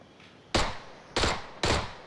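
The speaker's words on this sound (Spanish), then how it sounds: "Le di dos tiros a uno." Gunfire in PLAYERUNKNOWN'S BATTLEGROUNDS: three sharp, loud shots, evenly spaced about half a second apart, each with a short decaying tail over a quiet background.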